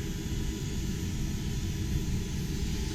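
A 7,000 BTU 12 volt marine air conditioner with a 12 volt compressor and blower runs at full speed on a 34 DeAntonio boat, a steady low droning hum and airy whoosh, constant and close.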